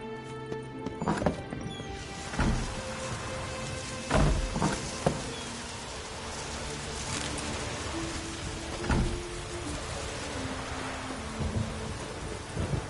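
Steady rainfall in the video game The Witcher 3 hisses throughout, with a few heavier thuds and rumbles and some tonal music faintly underneath.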